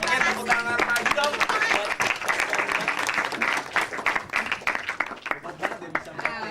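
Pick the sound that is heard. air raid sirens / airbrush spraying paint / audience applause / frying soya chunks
audience applause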